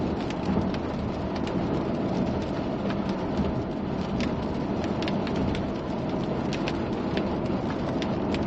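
A heavy thunderstorm on the plains near the Colorado–Nebraska border brings steady loud rain with rumbling thunder underneath, continuous and close, with no voices.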